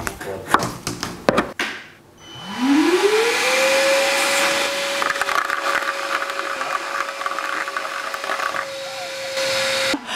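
A vacuum cleaner fitted with a 3D-printed cyclone separator attachment starts up, its motor whine rising over a couple of seconds into a steady, loud drone that runs to the end after a burst of handling clatter.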